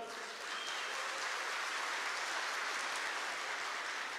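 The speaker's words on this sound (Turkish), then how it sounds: "Büyükşehir'den gelenler bir alkış yapsınlar." Audience at a municipal staff iftar breaks into sustained, dense applause, loud and continuous for several seconds.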